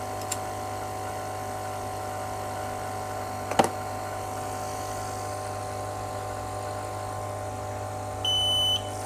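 A home smoke sensor set off by smoke from burning paper, part of a fogging and automation setup for freshwater lobster farming, gives one short electronic beep near the end after a quiet stretch with a brief click.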